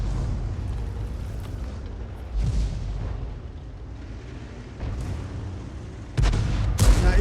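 Artillery shells landing in World of Tanks, with several deep booming impacts spaced a few seconds apart over a low rumbling battlefield background and a sharper, louder blast near the end.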